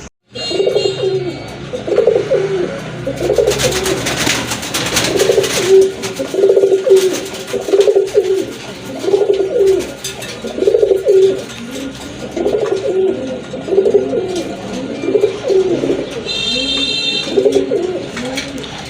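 A loft of pigeons, including a dun and a silver bird being sold, coos loudly and continuously. The birds give overlapping rolling calls close by, with occasional sharper chirps breaking through.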